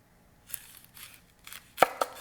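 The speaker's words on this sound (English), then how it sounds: "I'm going to cut the ends off pretty close to the root" Two sharp knife chops through an onion's root end land on a cutting board in quick succession near the end, after soft handling sounds, close and distinct with no talking.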